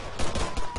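Rapid gunfire from the video game ArmA Altis Life, a burst of loud close shots in quick succession filling the short moment, with no talking over it.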